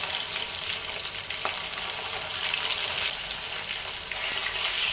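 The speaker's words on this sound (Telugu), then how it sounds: "ఇటువైపు కూడా ఏ విధంగా మనము ఫిష్ ఫ్రై చేసుకోవాలి" Fish pieces frying in hot oil in a pan for fish biryani, a dense, continuous close sizzle with steady crackle and no talk.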